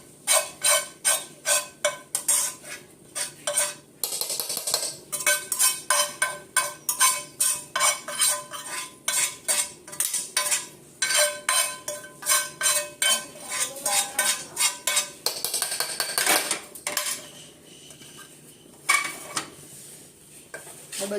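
A spoon scrapes and clinks rapidly against a bowl while turmeric and chili powder are stirred into handvo batter, a brisk, rhythmic metallic clatter that runs for about twenty seconds with brief pauses.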